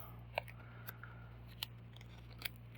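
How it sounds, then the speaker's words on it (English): A few small, decorative scissors, won as a nail-art bingo prize, are handled, giving sparse, faint clicks and snips over a steady low hum, with no voices. "how cute are these scissors?"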